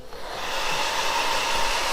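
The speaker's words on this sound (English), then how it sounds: "I'm gonna go back in with the dryer. I'm gonna go into the cool setting." A handheld hair dryer runs on its cool setting, a loud, steady airy whoosh with a faint motor whine that holds throughout without talk.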